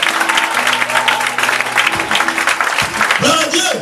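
A church congregation clapping, steady applause filling the room under a loud voice and held sustained tones throughout.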